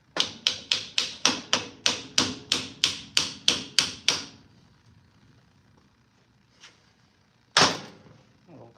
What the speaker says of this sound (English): snap-on hammer here.